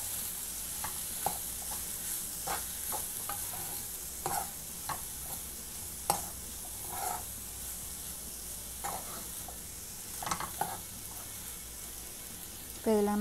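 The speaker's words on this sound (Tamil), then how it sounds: "இதை நல்லா மிக்ஸ் பண்ணிடலாம்." Shark fish puttu being stirred and mixed in a pan, with repeated scraping spoon strokes over a soft continuous sizzle, close and fairly quiet, no voices.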